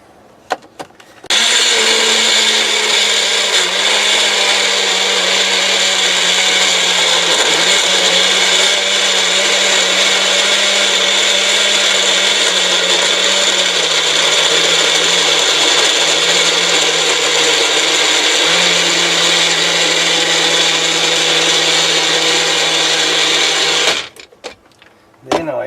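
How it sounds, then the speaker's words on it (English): A blender whirring at high speed on almond milk for a vegan breakfast, a loud steady motor drone lasting over twenty seconds with a slight pitch wobble as the contents churn, stopping abruptly with a couple of clicks at each end. "Just put a little bit of almond milk in first, just to get some moisture so it blends"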